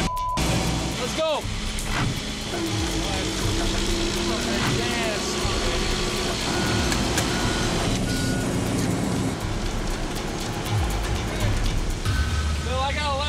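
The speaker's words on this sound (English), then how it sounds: "it's time to pull the backhoe out of the mud" A truck strains to pull a backhoe out of deep mud, engine rumbling loudly and steadily throughout with reversing beeps and mechanical clanks, while people talk and shout nearby.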